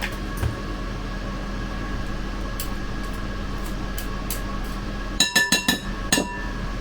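A whisk tapped against a mixing bowl to shake off Christmas cake batter: a quick run of five or six clinking knocks near the end, close, over a low background hum.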